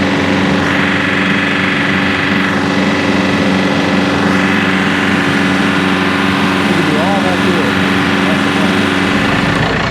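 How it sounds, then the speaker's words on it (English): A brush hog mower's engine runs steadily and loudly close by, a constant rough drone throughout with a voice speaking over it. "starting to mow the grass"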